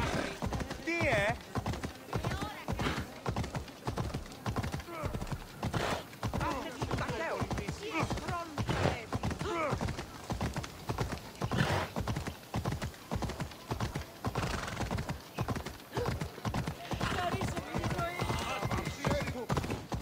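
A horse gallops in Assassin's Creed Odyssey, rapid rhythmic hoofbeats pounding continuously and close, with people talking over the ride.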